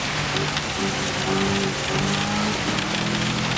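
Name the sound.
rain on the track in Gran Turismo 7 video game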